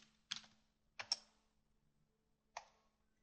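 Three short bursts of quick computer keyboard key clicks break up a quiet room with a faint steady hum, as a command is typed out close by.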